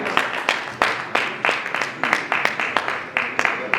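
A crowd at a pastors' meeting applauds a pastor: dense, steady clapping from many hands, fairly loud and close, with sharper individual claps standing out in a quick uneven rhythm and voices mixed in underneath.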